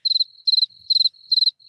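Soundboard cricket chirps in steady pulsing bursts, four trills in under two seconds, clear, close and bright with nothing else behind them.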